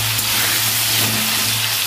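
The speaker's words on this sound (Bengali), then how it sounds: "ভালো করে আলুটা ভেজে নেবো।" Potatoes fry in oil in a wok with turmeric and salt, giving a loud, continuous close-up sizzle and crackle, steady from start to finish without any speech.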